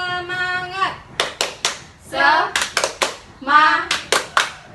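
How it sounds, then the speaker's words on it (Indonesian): Primary schoolchildren in a classroom perform a rhythmic 'tepuk semangat' chant-and-clap, sharp group hand claps in short bursts alternating with loud shouted chanting voices, close and lively. "mari kita lakukan tepuk semangat"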